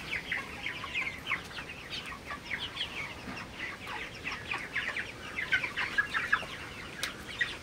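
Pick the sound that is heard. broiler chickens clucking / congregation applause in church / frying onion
broiler chickens clucking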